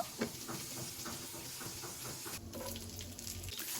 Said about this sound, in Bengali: ভাজার পরে অবশিষ্ট তেলের মধ্যে আমি চার পাঁচটা রসুনকে কচি করে সেটাকে দিয়ে দিচ্ছি